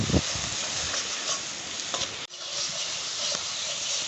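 Tilapia curry sautés in a hot pan with salt, giving a dense, steady sizzle of frying oil, with occasional stirring scrapes and a brief dip in the noise partway through.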